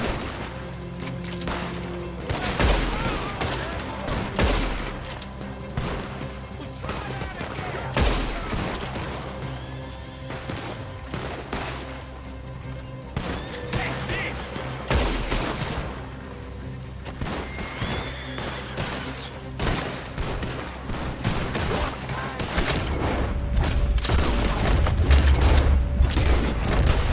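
Gunfire in the Western video game Red Dead Redemption 2, with repeated rifle and pistol shots and booms cracking out irregularly over a tense orchestral score throughout, ending in a heavier rumbling passage.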